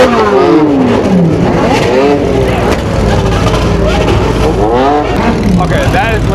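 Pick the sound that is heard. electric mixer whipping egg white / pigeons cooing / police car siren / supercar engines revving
supercar engines revving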